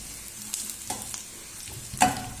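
Chili powder fries in a pan with a soft continuous sizzle, broken by a few sharp scrapes and taps of a stirring spoon, the loudest near the end.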